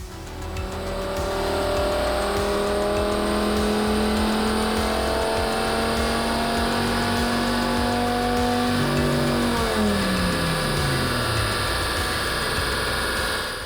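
A Volvo 850 Estate BTCC tribute with custom individual throttle bodies and headers, strapped down for tuning, holds a loud sustained rev that climbs steadily and then drops away near the end, harsh and close.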